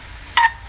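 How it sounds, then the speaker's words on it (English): A brief burst of meat sizzling and being stirred in a hot pan, short and fairly loud over a quiet background. "Just let it sizzle."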